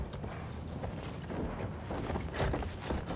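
Enemy horse galloping in the Battlefield 1 video game, a steady clip-clop of hooves under a noisy battlefield backdrop, moderately loud throughout.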